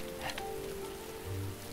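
Rain falls steadily on outdoor surfaces, an even soft hiss of drops that holds for the whole moment, with a faint low tonal hum beneath it and no one speaking.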